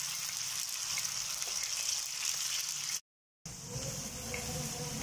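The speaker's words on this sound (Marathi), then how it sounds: "आपले जसे जसे बटाटे फ्राय होतात तसे आपण साईडला ठेवणार आहे" Potatoes frying in hot oil on a flat tawa over a low gas flame, a steady close hiss and sizzle throughout, with a brief cut to silence midway before the frying resumes.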